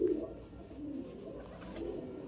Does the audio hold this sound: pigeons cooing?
yes